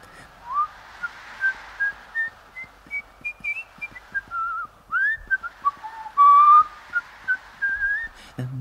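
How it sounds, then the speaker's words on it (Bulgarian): A man whistles a wandering, melodic tune in a Swedish folk tale, clear and fairly close, with short breathy phrases and small pauses, and no speech. "Винаги, когато нещата не вървят на добре, си свирка."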